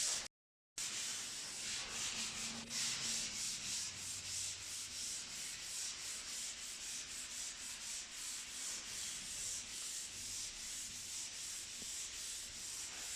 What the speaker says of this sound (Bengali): ফাইনাল কোট মাজন লাগানোর পর সিরিজ পেপার দিয়ে ভালোভাবে মাজনের জায়গাগুলো ঘষে নিতে হবে